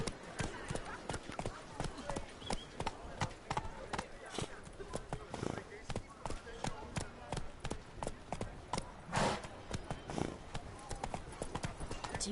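Roach the horse gallops in The Witcher 3, a steady rapid clip-clop of hooves running continuously and fairly close, with a voice speaking over it.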